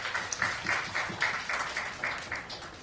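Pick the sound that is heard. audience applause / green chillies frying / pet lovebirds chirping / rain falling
audience applause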